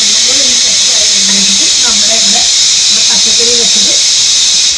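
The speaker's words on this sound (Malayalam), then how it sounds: "വിസിലടിച്ച് സെറ്റായിട്ടുണ്ട്." A pressure cooker of vegetables hisses steadily and loudly with steam, a continuous high whistle across the whole stretch, while a voice talks over it.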